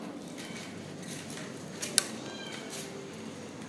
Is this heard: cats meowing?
yes